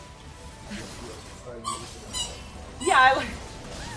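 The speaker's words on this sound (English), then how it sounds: "The squeaky toy, yeah." A dog's squeaky toy squeaks clearly a few times in a room, the sharpest squeak near the end, with a person talking casually nearby and game audio underneath.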